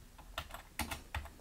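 Keys tapped on a keyboard connected by USB OTG to a tablet, a few quick clusters of clicks close by, quiet overall, with no talking.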